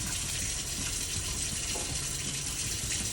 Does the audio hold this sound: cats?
no